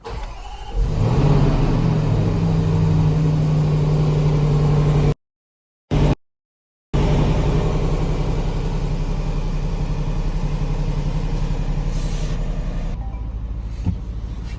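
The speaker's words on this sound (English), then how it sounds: "So this is a complete cold start in the garage." Cold start of a 2019 Range Rover V8 SS inside a garage: the engine catches with a rev flare, then settles into a steady, loud idle that keeps running with a couple of brief dropouts.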